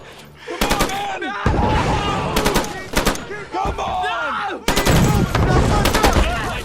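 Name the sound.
machine guns firing overhead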